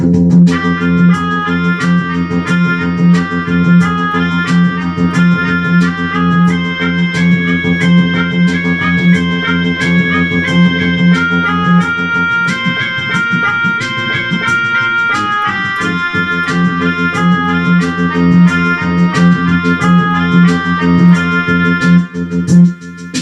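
Yamaha MX49 keyboard playing the Snake Charm ethnic patch, a nasal, wavering Indian-style lead melody over a split bass line and backing beat, loud and continuous without any speech.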